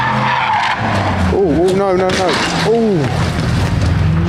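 A car skids with a brief, wavering tire squeal that rises and falls twice, mid-loud over steady engine and road noise, while a voice briefly exclaims.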